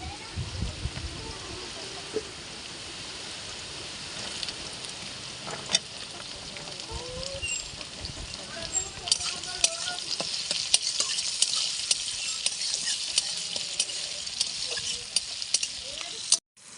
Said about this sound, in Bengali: পেঁয়াজগুলো লাল লাল হয়ে গেছে এবার দেবো ক্যাপসিকাম